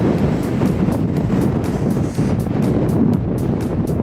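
Steady, strong, cold wind buffeting close to the microphone outdoors, a constant roaring rumble with gusty pulses and no voices.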